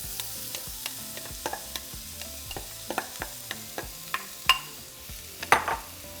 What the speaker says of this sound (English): Once the butter melts, we're going to add 2 large onions.